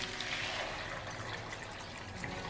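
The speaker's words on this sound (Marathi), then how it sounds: "आता याच्यामध्ये आपल्याला पाणी घालायचं आहे" Water poured into a pan of Maharashtrian chickpea usal (ghugrya), a steady, soft, close splashing pour that runs without a break for a couple of seconds.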